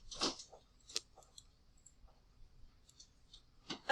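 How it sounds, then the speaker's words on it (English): Keys being pressed, a few faint, scattered clicks and taps with uneven spacing, some slightly sharper than others, in otherwise quiet surroundings. "That's me pressing the keys."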